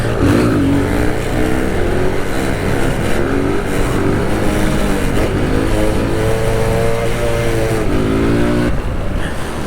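Several 125cc motorcycles ridden outdoors, engines loud and close, revving up and down through rising and falling pitches continuously over about ten seconds with no talking.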